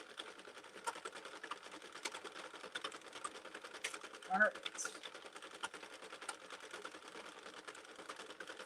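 A hand-cranked knitting machine knitting 3-weight yarn gives off a soft, steady stream of fast mechanical clicks, with a brief spoken remark near the middle.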